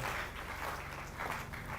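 A church congregation applauds in a dense, steady wash of many hands clapping together. It is moderately loud and fills the whole short stretch without pause.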